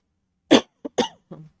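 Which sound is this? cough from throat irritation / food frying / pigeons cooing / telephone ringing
cough from throat irritation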